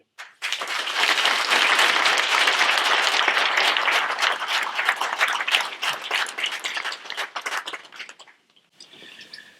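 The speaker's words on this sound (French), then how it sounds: "je pense qu'on peut, eux, les applaudir." Enthusiastic crowd applause, loud and sustained for several seconds before thinning out and fading, with a few faint bird chirps at the end.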